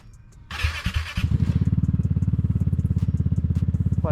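A Vespa GTS SuperTech scooter with an aftermarket Arrow exhaust cranks over with a short whirring starter burst, then catches and settles into a close, loud, rapidly pulsing idle with a crisp exhaust beat.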